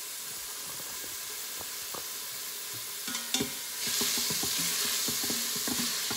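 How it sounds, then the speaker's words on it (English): Onions for chili sizzle in a hot pan while being stirred with a utensil, a steady close frying hiss punctuated by scraping and clicking strokes that swell louder midway. "Hopefully you can hear those sizzling right up."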